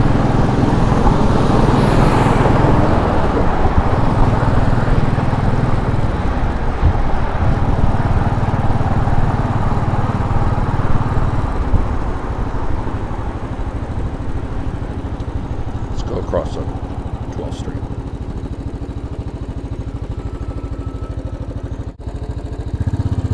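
A motorcycle engine drones steadily while riding over cobblestones in New York City, loud and close, with rumbling road noise throughout and a slight drop in intensity partway.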